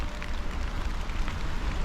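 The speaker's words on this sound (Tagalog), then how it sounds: "umulan na po" Rain falling on a vegetable garden of cabbage plants, a steady dense hiss of drops with low rumble, continuous and close.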